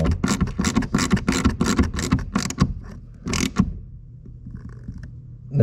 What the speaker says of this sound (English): I have a wrench on the bodywork on the outside holding the stud so it doesn't twist while this nylock nut runs down